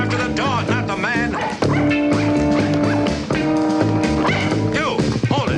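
A small dog yips and barks in quick bursts over loud, continuous orchestral music while it is chased by a man.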